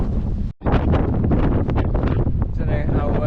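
Strong wind buffeting a microphone on a headland walk, a loud, continuous rough roar with one brief dropout and gusty rustling throughout.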